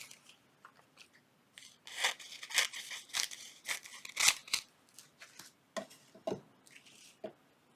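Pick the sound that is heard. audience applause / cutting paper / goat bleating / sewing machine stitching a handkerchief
cutting paper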